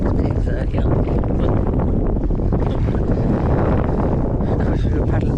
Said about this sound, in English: Like I said, crosswind.